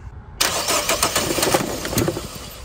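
A Nissan Versa with a crank-no-start fault suspected from bad gas, its starter cranking the engine in a steady, loud, rapid churn that begins abruptly and continues without catching.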